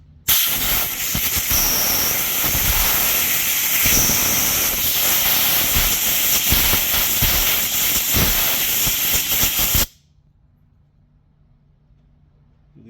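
An air compressor nozzle blows through the orifice of an EZ Freeze propane refrigerator: a loud, steady, close hiss of rushing air that cuts off abruptly, leaving near silence.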